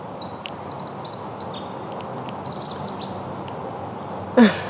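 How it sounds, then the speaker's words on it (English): Birds sing and chirp continuously outdoors in a natural setting, a steady layer of overlapping high calls over soft ambient noise, with a brief louder thump near the end. "Can you hear the sound of the birds?"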